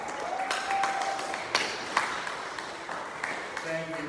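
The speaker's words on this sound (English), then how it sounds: "And now we clap." Church congregation clapping during a Sunday service, a moderate round of applause with a few sharper claps, mixed with a tone and what sounds like voices underneath.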